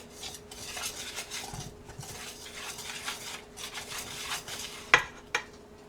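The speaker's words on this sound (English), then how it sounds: "Then I go in with my egg white. You don't beat your egg white, but just go in with your egg white. And just get that stirred in real good." A utensil stirs egg white into onion ring batter in a bowl, giving soft irregular scraping and clinking close by, with a couple of sharper knocks near the end.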